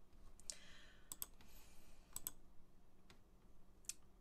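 Computer mouse clicks on a desktop, a few faint, sharp, separate clicks spaced irregularly over quiet room hiss, with no talking.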